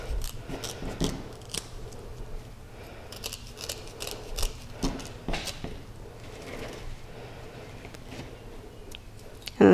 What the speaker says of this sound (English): you can just cut straight circles out of the material